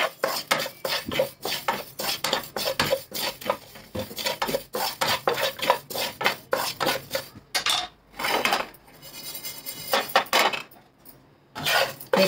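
Fennel seeds and black peppercorns dry-roast in a pan while a utensil stirs them, making a close, steady run of rapid scraping and clinking strokes, with a few louder rattling bursts near the end.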